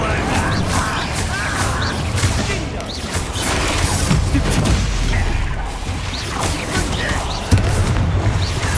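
Fire and blasting spells go off in the Hogwarts Legacy video game, repeated explosive bursts and crackling booms over continuous noisy combat ambience, with a voice calling out between the blasts.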